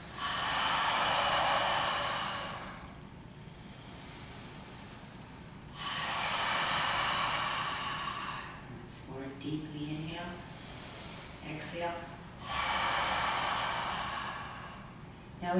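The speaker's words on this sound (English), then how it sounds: "exhale through the mouth as if you had a pair of sunglasses in your hand and you were fogging up the lens to clean it" Three long, breathy exhalations through an open mouth make up this yoga breathing exercise, each a soft, hazy rush lasting a couple of seconds, with a person talking between the breaths.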